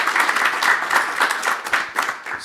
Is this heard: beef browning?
no